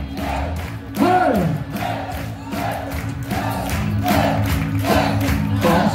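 Crowd at a Muay Thai fight cheering and shouting loudly and continuously, with rising bursts of yells and whoops swelling over a steady roar of voices.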